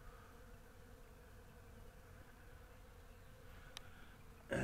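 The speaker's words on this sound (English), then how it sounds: "I got bees interested in them. Quite a few bees." Bees buzz softly and steadily around swarm traps baited with empty honeycomb, a faint continuous insect drone near and far, with a brief louder burst right at the end.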